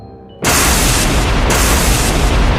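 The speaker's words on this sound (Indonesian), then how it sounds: "Gelombang energi naga emas meledak ke belakang." A golden dragon energy wave explodes with a sudden loud blast that swells into a roaring, noisy rush and holds steady and dense for the remaining couple of seconds.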